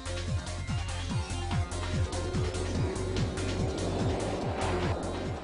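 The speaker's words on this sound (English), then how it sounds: "With first call on his bike, Patrick, the challenger, takes to the runway." A motorcycle on a long-distance wheelie run down a runway accelerates hard through the gears, its engine note climbing and dropping with each shift in a steady repeating rhythm, loud and close, with a voice talking over it.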